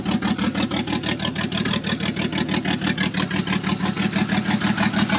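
A 1984 GMC S15 truck engine idles rough just after a cold start with the choke on, a fast uneven chugging pulse that misses on some cylinders, close and steady throughout.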